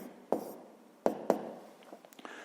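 Handwriting on paper while a math exercise is worked out, quiet and close: soft scratching strokes with three sharper taps or pen strokes and a few fainter marks near the end, with no talking.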